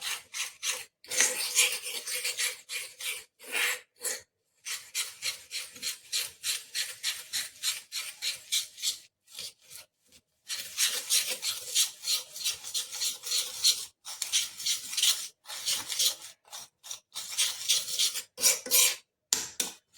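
Aloe vera gel mixed into strained amla in a bowl, heard as close, rhythmic rasping and scraping strokes in quick bursts separated by short pauses.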